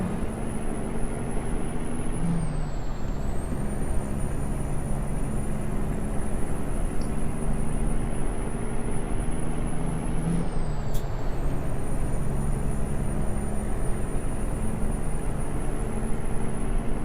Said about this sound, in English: my truck's having a hard time getting up the hill because of that